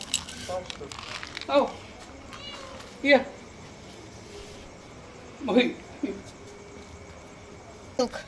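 Stray cats meowing at feeding time outdoors near a restaurant in Arambol, Goa, several short separate meows spaced a second or two apart over quiet background, with people talking softly nearby.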